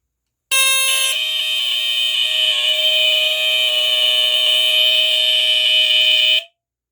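A First Alert SA10CRF smoke alarm's loud, steady electronic horn blares continuously for about six seconds, then cuts off abruptly.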